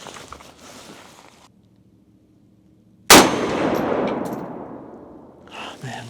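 A single sharp, loud gunshot rings out at rifle and pistol target practice, followed by a long echoing decay after a quiet pause, with faint shuffling before it.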